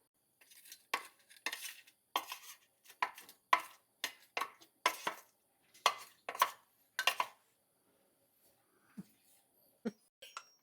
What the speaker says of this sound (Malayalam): ഇതൊന്ന് ജസ്റ്റ് മിക്സ് ചെയ്തിട്ട് നമുക്ക് പ്ലേറ്റിലേക്ക് മാറ്റാം